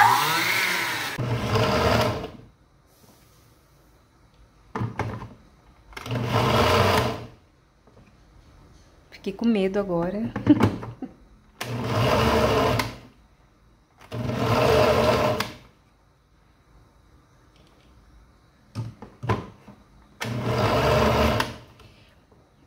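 A kitchen appliance blending kale with lemon juice runs in repeated short pulsed bursts with silences between, a loud high whirring motor; a person speaks briefly once.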